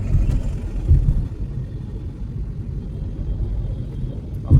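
A Hindustan Ambassador car in mint condition accelerates, giving a steady low engine rumble that stays close and even throughout, with no voices.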